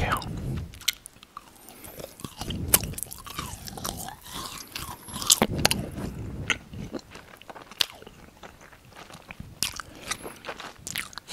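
Close-up bites and chewing of Swedish jelly candy: crisp crunches and sticky, squishy chewing in an uneven rhythm, with sharp crackles throughout.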